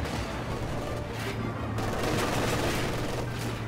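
Gunfire from the World War II strategy game Company of Heroes 2 during a 3v3 match: dense, continuous volleys of rifle and machine-gun shots mixed with distant booms, crackling steadily without pause.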